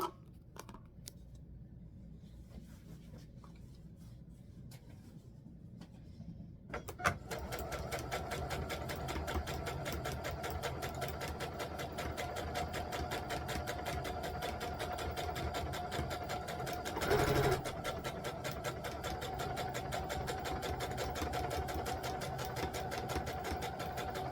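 A sewing machine runs a straight stitch along a custom valance and its lining, humming with a fast, steady, close whir after a few quiet seconds of handling at the start.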